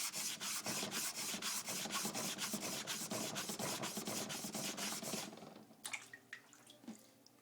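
A blade edge is chamfered at a 45-degree angle by rubbing it on a sharpening stone with a nagura, giving a close, rhythmic run of quick scraping strokes for about five seconds, then a few soft taps and clicks.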